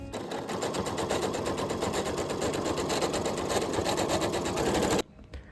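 A sewing machine stitches bias binding onto a costume belt, a fast, even mechanical chatter running loud and close for five seconds before it stops abruptly.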